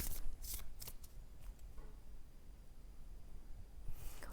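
Cards riffle and slap together in several quick bursts, a close, papery shuffling that pauses briefly before starting again.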